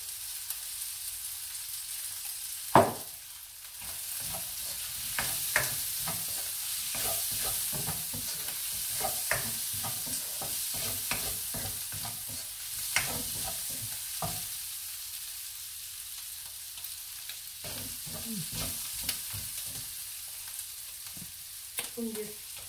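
Green mango and dried fish stir-fry in a pan with a faint, constant high sizzle, punctuated by repeated scraping and tapping strokes of a spatula at an irregular pace.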